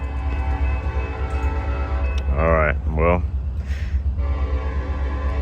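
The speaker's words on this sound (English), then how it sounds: "that'll be the next train" A Norfolk Southern northbound train, number 154, rumbles steadily nearby while its horn sounds two loud blasts, with someone speaking briefly alongside.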